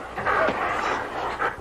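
Sled dogs pant and whimper after a ride, with breathy rhythmic huffing and a couple of short high whines. They are close and fairly loud over a short stretch.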